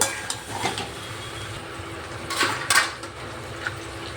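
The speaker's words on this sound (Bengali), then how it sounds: "মশলার সাথে ভালো করে আমি মিশিয়ে নেব।" Vegetables and spice paste for shukto being stirred in a pan, with soft scraping and clinking of a utensil against the metal and a few louder knocks, faint sizzling underneath.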